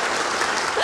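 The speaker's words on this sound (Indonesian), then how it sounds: "Kasih tepuk tangan dulu dong buat Bang Roni supaya lebih semangat hari ini ya." A studio audience claps for under a second, a dense burst of many hands.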